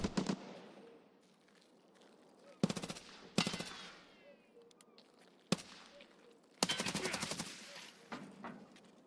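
Bursts of automatic gunfire in Escape from Tarkov on the Lighthouse map, several separate volleys with rapid repeated cracks, loud and close, the longest and densest burst near the end.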